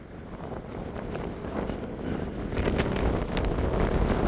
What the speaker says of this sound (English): I feel like the wind started up as soon as I hit record